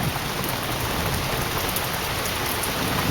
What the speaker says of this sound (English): Damn, it is raining hard.